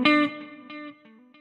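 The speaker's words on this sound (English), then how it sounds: "the pan delay." An electric guitar through the pan delay effect of a NUX Mighty Plug Pro sounds one strong strummed chord, followed by fading repeats that bounce and decay over about a second.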